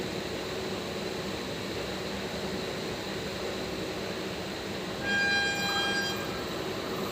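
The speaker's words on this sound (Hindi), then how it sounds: "आ रही है अहमदाबाद केवड़िया जनशताब्दी एक्सप्रेस।" The Ahmedabad–Kevadiya Janshatabdi Express with its Vistadome coach approaches near Chandod railway station, a steady rumble of wheels and engine rising gradually, with a brief tonal horn blast toward the end.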